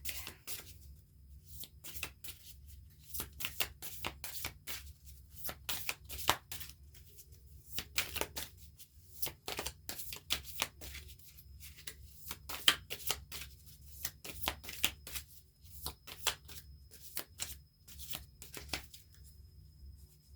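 A deck of tarot cards riffles and snaps through a repeated shuffle, bursts of crisp flapping with short pauses between, close up and without talk.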